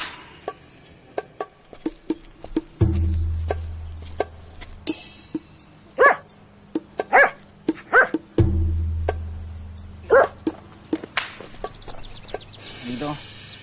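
A dog barks in a few sharp bursts in the middle of a dialogue scene, the barks spread out and fairly close, set among low rumbling thumps and other scattered noises.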